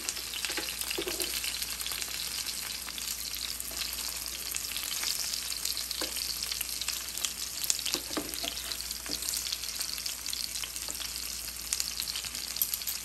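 Chicken seekh kebabs pan frying in a steady, even sizzle that holds for the whole span, with occasional faint pops and soft knocks, no voices.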